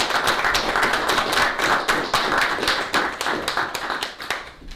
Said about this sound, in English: let's give Chris a round of applause for that